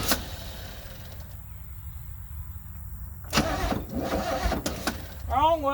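A 1972 C30 truck that sat abandoned on a farm for 15 years cranks over with the choke held closed, the starter grinding in a few uneven bursts amid rustling, with a voice briefly at the end.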